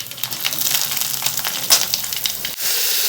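Mustard seeds, green chillies, ginger and asafoetida sizzle in hot oil for a traditional Karadaiyan Nombu adai, a loud, close, continuous hiss with small crackles throughout.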